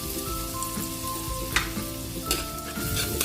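Butter and garlic sizzling steadily in a pan, a close crackling fry with occasional stirring scrapes and clinks, no voices over it.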